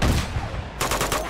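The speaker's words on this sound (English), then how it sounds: "What the hell are they shooting at?" Rapid gunfire from Uncharted 2, a burst of loud close shots over about a second, with a sharp cluster of reports near the end and no speech.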